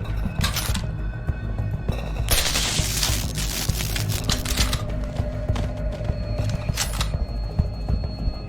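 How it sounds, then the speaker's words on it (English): Bursts of gunfire, a sustained volley with sharp cracks and a mechanical rattle, loud and close, with broadband blasts recurring through the stretch and no one speaking. "What's that? Gunshots!"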